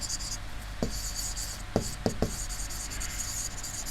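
Chalk or a marker taps and scrapes on a classroom board in a few short strokes over a steady background hum, with no talk during the marks.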